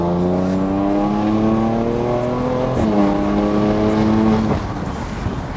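A BMW M4 with an Akrapovic titanium exhaust revs and pulls hard, its loud droning engine note climbing steadily, dipping at a gear change, then climbing again before easing off near the end.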